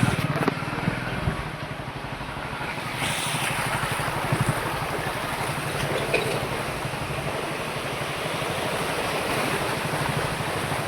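Floodwater after heavy rain fills a street in Mansa, Punjab, a loud, continuous rushing and churning wash with a low rumble beneath, steady for the whole stretch.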